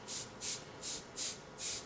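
Airbrush spraying paint onto granite stone, five short, even hissing bursts in a regular rhythm, close and fairly quiet.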